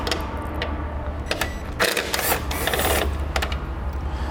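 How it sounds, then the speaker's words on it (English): Front fascia screws on a 2016 Chevrolet being loosened with a T15 Torx bit, a close run of ratcheting clicks and rattles with short bursts of mechanical whir. "we're going to have these screws that are going to use a T15 Torx bit in order to remove them."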